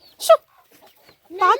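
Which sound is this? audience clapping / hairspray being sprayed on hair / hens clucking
hens clucking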